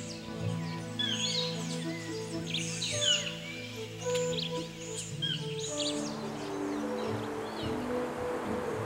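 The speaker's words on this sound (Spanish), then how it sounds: "Entre la fauna, las aves son el grupo más numeroso," Many birds sing at once in a tropical rainforest: overlapping chirps, whistles and trills near and far, with a steady background hiss of leaves or insects.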